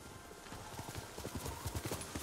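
Rhythmic hoof clip-clops of a horse trotting in the video game Ghost of Tsushima, faint and steady, with a short whinny-like sound in the mix.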